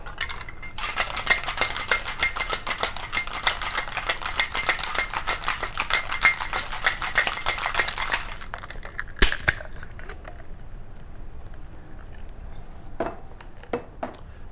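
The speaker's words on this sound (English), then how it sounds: "And now we're going to seal. Shake for 6 seconds." A cocktail tin holding two ice cubes is shaken hard for about eight seconds, giving a dense, steady rattle of ice against metal, then stops, followed by a few faint clinks and knocks.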